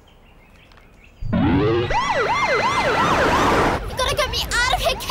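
In a teen TV show, an ambulance siren suddenly bursts in loud and close with rapid rising and falling wails, then shifts to a faster yelp pattern. A brief word is spoken.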